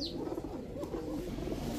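White German Beauty pigeons cooing in a low, steady murmur of soft coos, close and continuous with no talk.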